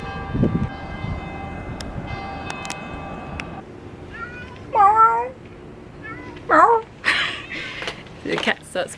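A nervous cat meows several times in short loud cries during a walk near the beach at Positano, over faint ambient noise with brief talk early on.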